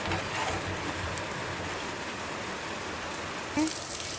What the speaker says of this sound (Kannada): ಚೆನ್ನಾಗಿ ಬರ್ತಿದೆ, ಮೋಡ ಎಲ್ಲ ಮುಚ್ಕೊಂಡಿದೆ, ಮಳೆ ಬರ್ತಿದೆ.